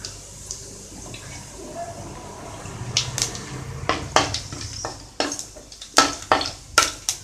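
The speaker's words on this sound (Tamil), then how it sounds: "இப்போ அந்த பட்டை, கிராம்பு, ஏலக்காய் இது எல்லாத்தையும் போட்டுடலாம்" Whole cinnamon, cloves and cardamom crackle in hot oil for a Tamil mutton kuzhambu, a steady low sizzle rising into sharp spitting pops and scrapes that come in quick bursts toward the end, close and fairly loud.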